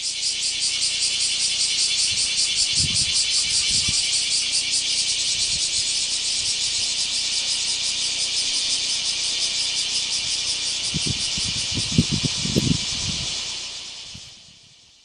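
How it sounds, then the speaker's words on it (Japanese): Kuma cicada (Cryptotympana facialis) in Okinawa calling in a loud, continuous buzzing drone, close and dense, with faint low thumps underneath before it fades out at the end. "これがクマゼミの鳴き声です。"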